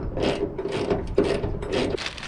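A hand ratchet tightens bolts while car parts on a Ford Focus are fitted, giving repeated close, rasping clicks in short bursts with brief pauses between strokes.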